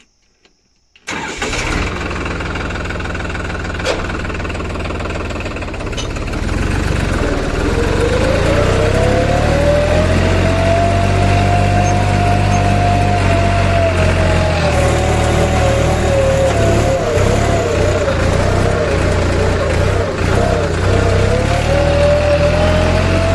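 A farm tractor engine starts up during field ploughing and harrowing for soybean sowing, then runs steadily and loudly close by, its note rising as it revs, with no talk.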